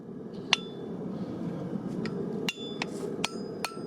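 Hammer blows ring on a handmade steel horseshoe being drawn out at the forge, several sharp metallic strikes at irregular intervals over a low background hum, fairly close and distinct.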